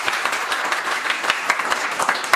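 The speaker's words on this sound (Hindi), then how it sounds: "एक बार एमडी सर के ताली देंगे क्या" A class audience applauds their MD sir during a mobile repairing course, steady dense clapping throughout the short stretch with no pauses.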